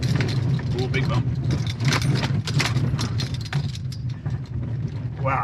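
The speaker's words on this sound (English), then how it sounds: "So those were pretty rough bumps there." A midsize pickup truck crawls off-road over rough rocky bumps, its engine droning low beneath clattering, jolting knocks and rattles from the body and suspension, with a few sharper thuds.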